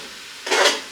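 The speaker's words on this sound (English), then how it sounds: "Stir it up." A single brief scrape from stirring garlic shrimp and asparagus in a hot pan, rising into a short sizzling swell after a quiet moment, close and without voices.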